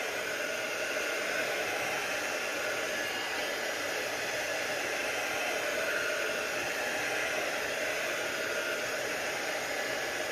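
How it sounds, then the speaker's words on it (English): A heat tool blows continuously and loudly at close range, a steady breathy roar used to dry ink on a card, with no break or change throughout. "I'm just going to get my heat tool because it's still just a little bit wet in here"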